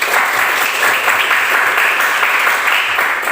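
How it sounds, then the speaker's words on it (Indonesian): A classroom audience claps together in a dense, steady burst of applause that holds at even loudness throughout, with no voices over it. "Tepuk tangan dulu untuk kita semua ya."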